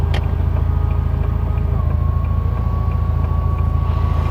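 A car engine settles into a smooth, steady idle, with a close, even low-pitched throb and faint rhythmic ticking throughout.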